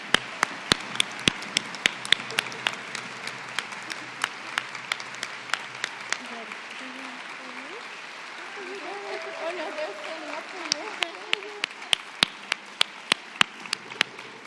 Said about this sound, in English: Let's give a final round of applause to all our speakers.